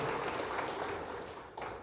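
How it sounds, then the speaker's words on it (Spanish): A church congregation applauds the Lord, a dense, steady wash of many hands clapping at a distance that stays fairly even for a couple of seconds and then briefly dips before continuing. "le un aplauso al Señor"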